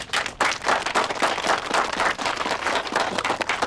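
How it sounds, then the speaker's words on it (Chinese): A crowd claps steadily at a village meeting, the applause dense and continuous, moderately loud and close, with no talk. "鼓掌"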